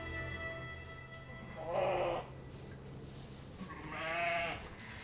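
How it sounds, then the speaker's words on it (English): Sheep in a lambing barn bleating twice, two clear wavering calls spaced a couple of seconds apart over a quiet room background. "Oh, look at that cute lamb."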